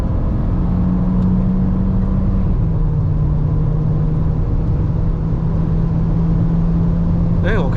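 A 2026 Proton S70 MC1 at Sepang circuit is pushed at full throttle, with a loud steady engine drone rising in pitch inside the cabin, plus a brief chirp near the end.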